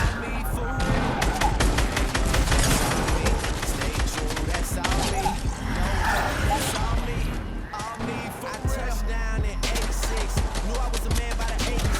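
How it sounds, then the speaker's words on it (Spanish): Rapid, sustained minigun fire in a video game, dense bursts of shots running nearly the whole time at close range, with a voice talking over it and a short gap near the end. "Qué mogollón de disparos."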